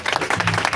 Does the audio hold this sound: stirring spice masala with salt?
no